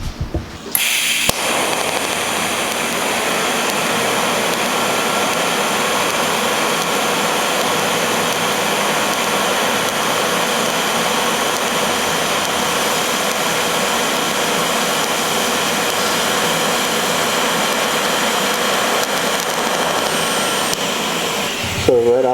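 TIG welding run with a gas lens, a steady, even hiss and buzz that holds unbroken for about twenty seconds, close and loud, starting and stopping sharply.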